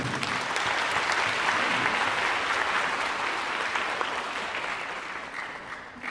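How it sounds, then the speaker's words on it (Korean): Audience applause fills the hall at a youth orchestra event in Geoje, a dense, even, close round of clapping that holds steady for several seconds and then slowly tapers off. "힘찬 박수입니다."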